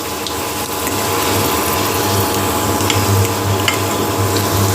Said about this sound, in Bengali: বাকি উপকরণগুলো একটু ভাজাভাজি করি